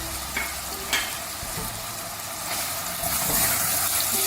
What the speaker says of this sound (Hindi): मिक्स करेंगे अच्छी तरह से